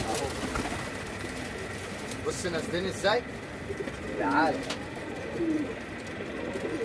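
Pigeons in a rooftop loft give repeated soft coos and rustles, with someone speaking Arabic nearby over steady background noise.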